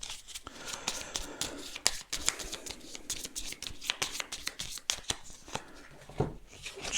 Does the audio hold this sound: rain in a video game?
no